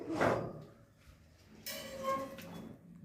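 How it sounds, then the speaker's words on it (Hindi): A door is opened on a misty morning with a scraping, sliding rattle followed by a louder clatter and creak, close by and moderately loud, with no talking. "अभी आपको दरवाज़ा खोल के दिखाता हूँ।"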